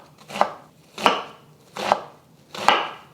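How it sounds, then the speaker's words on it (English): A knife chops an onion on a cutting board in four evenly spaced, sharp thuds about two-thirds of a second apart, close and clear with no voices. "I'm going to try to cut this into little pieces, minced, I guess, or just chopped"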